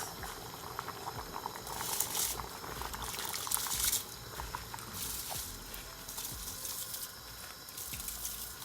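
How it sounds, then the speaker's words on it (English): A pot of seasoned liquid for Jamaican gungo rice and peas boils steadily after rice is added, with a continuous close bubbling hiss and no talking. "So now I'm gonna add my rice."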